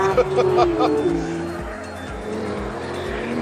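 Race car at full throttle bouncing over circuit kerbs, the car sliding and twitching in all directions; a loud engine note with tyre squeal and rhythmic thuds from the kerbs, under engine-dominated onboard noise.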